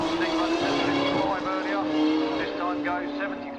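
A superstock motorbike roars at full throttle at a street bike racing meet, its engine revving in rising and falling sweeps while a rider lifts into a wheelie. The engine is loud and close, with commentary talking over it throughout.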